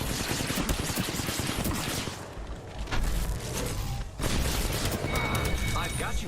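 Video game combat gunfire crackles in dense, steady bursts, loud and close, with a brief lull mid-way before firing resumes, mechanical clatter and faint voice chatter in the mix.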